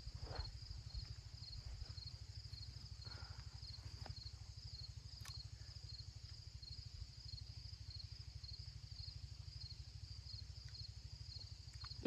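Insects, likely crickets, chirp steadily in an evening-to-afternoon outdoor setting, with a continuous fine pulsing trill and a dense low buzzing hum that runs unbroken for the whole stretch at a moderate, even level.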